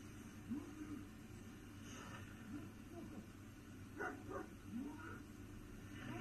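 A dog barks faintly a few times in short yips at a distance, over low background rumble, with indistinct voices nearby.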